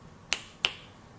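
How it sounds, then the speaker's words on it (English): Two sharp finger snaps, close and fairly crisp, spaced about a third of a second apart with quiet room tone between them. "Trying to snap your fingers."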